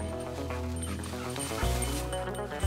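A setter dog on a pheasant hunt barks and whimpers over a dense bed of steady background music, the dog's voice fairly close but partly masked by the music throughout.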